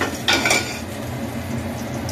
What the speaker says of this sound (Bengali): এবার অন্য একটা কড়া বসিয়ে দেবো, কড়া তুলে নিলাম।